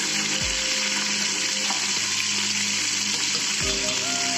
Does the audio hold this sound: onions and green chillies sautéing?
yes